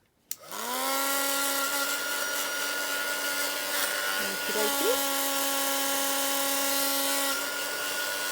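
A handheld heat tool runs steadily to dry freshly inked paper for a junk journal, a loud continuous whirring hum with a high whine that starts abruptly and holds for several seconds, with brief faint background sounds partway through.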